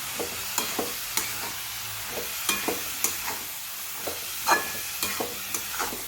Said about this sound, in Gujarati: હવે જે આપણે પાલક છે એને આપણે થોડી કરીને મિક્સ કરતા જઈશું